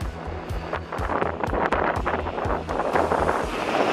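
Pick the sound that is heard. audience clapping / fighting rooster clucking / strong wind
strong wind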